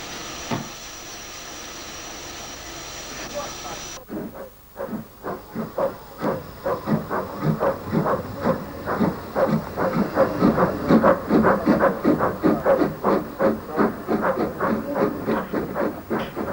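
Steam locomotive Sutton at Rolvenden: a steady hiss of escaping steam gives way abruptly to rhythmic, repeated chuffs building in loudness as the engine works, close by and alone without talk.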